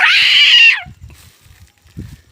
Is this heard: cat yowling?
yes